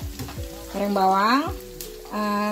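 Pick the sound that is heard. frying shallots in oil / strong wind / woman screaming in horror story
frying shallots in oil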